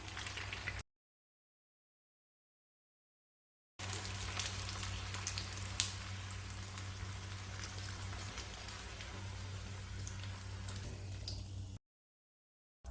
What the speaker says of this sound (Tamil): ஒரு ரெண்டு பக்கமும் நல்லா செவக்க வேக வச்சு எடுத்துக்கலாம்